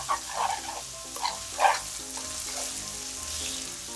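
Anchovy pasta bubbles and sizzles in a pan over high heat, a steady close crackle of frying with soft bursting bubbles and faint clinks, no voices.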